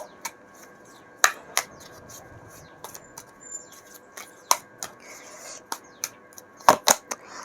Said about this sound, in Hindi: दोबारा से शफल कर लेते हैं